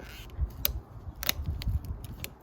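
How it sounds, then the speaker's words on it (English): Scissors snip at an old zip tie on a Yamaha XT250 headlight install, a few sharp, quiet clicks and cuts spaced irregularly over faint handling noise, with no talk. "Some scissors ought to do the trick"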